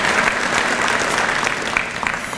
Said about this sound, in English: please help join me in a round of applause, thanking all of our elected officials